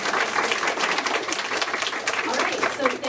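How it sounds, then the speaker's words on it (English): Audience applause for presenters at a housing industry meeting, a loud, continuous wash of many hands clapping with crowd murmur mixed in throughout. "If we give all our presenters a big round of applause"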